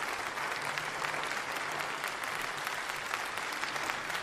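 A canned clapping sound effect plays to welcome a guest, steady crowd applause lasting several seconds at modest volume with no voices over it.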